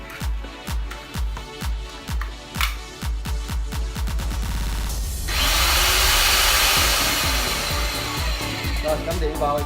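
An SCY-38WSPM permanent-magnet base drill cuts into steel plate, with cutting oil applied. A rapid series of rhythmic mechanical pulses gives way to a loud, steady grinding whine from the motor and the cut, heard up close.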